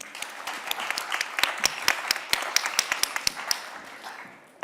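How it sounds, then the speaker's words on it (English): Audience applause after a guest is welcomed at a gender-policy event, a moderate burst of individual claps that thins out and fades near the end. "Round of applause."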